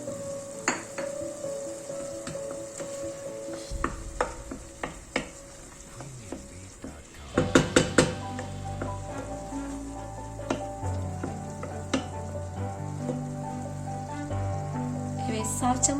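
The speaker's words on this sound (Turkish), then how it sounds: "Hemen bir kaşık dolusu salçamı pilavıma alıyorum. Ve güzelce salçamı kavuracağım." A spoonful of tomato paste sautés in a pot with cooked tomatoes for a vegetable bulgur pilaf, giving off a steady low sizzle broken by the sharp clinks and scrapes of a spoon stirring, which grow busier and louder halfway through.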